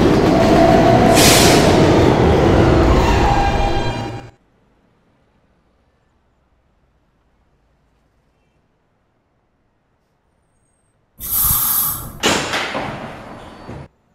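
R160B subway car on a New York D train, loud rolling rumble and screech inside the car that cuts off abruptly into near silence, then a sharp burst of noise and door or car thumps resume near the end.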